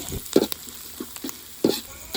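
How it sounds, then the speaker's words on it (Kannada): Curry leaves frying in a tempering for chicken pepper fry, with a sizzle beneath several distinct stirring scrapes and knocks in an uneven rhythm, close and without talk. "ಒಗ್ಗರಣೆ ಸೊಪ್ಪು ಹಾಕಿ ಅದನ್ನು ಕೂಡ ಚೆನ್ನಾಗಿ ಮಿಕ್ಸ್ ಮಾಡಬೇಕು"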